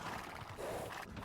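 Scout cavalry horse in Age of Empires II, a brief faint whinny and hoof sound over a soft, dense game background.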